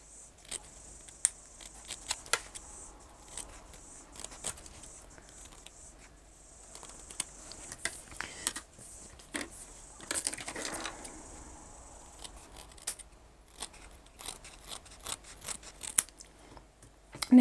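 Repeated sharp scissor snips close by, clipping fabric seam corners in short bursts scattered irregularly with brief pauses, alongside faint rustling of fabric.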